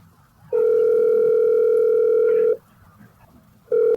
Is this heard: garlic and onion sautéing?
no